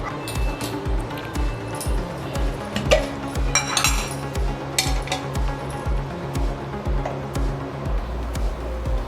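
A pan of oil is set on the stove to heat while sabudana vada are made, with scattered metallic clinks and knocks of cookware over a run of soft, regular thumps, close and fairly quiet.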